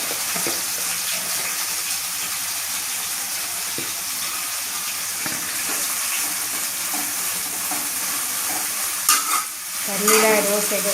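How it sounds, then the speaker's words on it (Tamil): Pirandai (veldt grape) stems sizzle steadily in hot oil as a spoon stirs and scrapes the pan, with a brief clatter near the end. "எண்ணெயிலேயே இந்த பிரண்டையை நல்லா வதக்கணும்"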